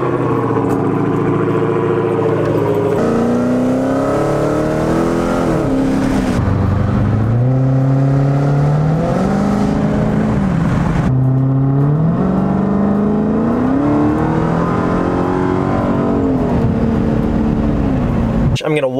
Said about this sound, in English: we're gonna start the car up and get on out of town here